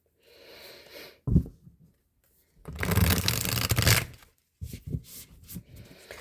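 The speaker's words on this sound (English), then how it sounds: "One more shuffle." Tarot cards shuffled by hand, giving brief papery riffles and a longer rustling burst of cards sliding together, close and clear, separated by quiet gaps.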